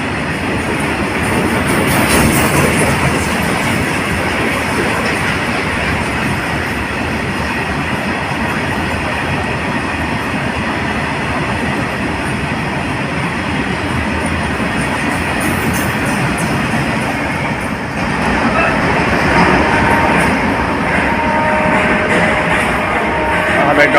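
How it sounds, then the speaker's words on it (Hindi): A freight train hauled by twin WAG 5 electric locomotives from Asansol races through Prayagraj Chheoki Junction. It makes a continuous loud roar and rattle of wagons rolling past close by, with a brief dip near the end. "फ्रेट ट्रेन ये काफ़ी अच्छी खासी स्पीड से यहाँ से गुजर रही है आसनसोल के WAG 5 ट्विंस के साथ"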